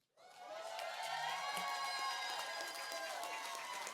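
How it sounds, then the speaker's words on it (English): Audience at a plenary session cheering and applauding for Robert Suttle, a sudden burst of dense clapping with whoops and shouts that stays loud and sustained throughout. "give a round of applause to Robert Suttle"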